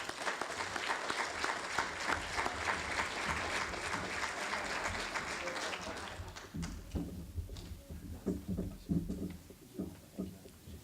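An audience at a fire department awards ceremony applauds, with dense, steady clapping for about six seconds that then thins into scattered, uneven claps before dying away.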